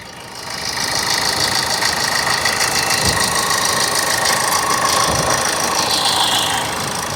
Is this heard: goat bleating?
no